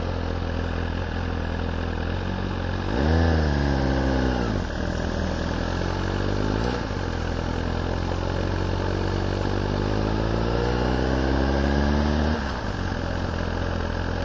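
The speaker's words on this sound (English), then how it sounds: "The engine might be a bit rougher, but it does sound lovely." A nearby Suzuki GSXR1000 motorcycle engine idles and then revs several times, its pitch sweeping up and falling back, over a constant low rumble.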